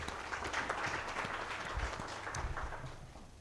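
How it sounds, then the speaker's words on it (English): Quiet, steady applause from an audience at a business talk on financing, honouring two entrepreneurs: a dense wash of many hands clapping together, fairly distant and even for several seconds with no voices over it. "A round of applause for those two entrepreneurs."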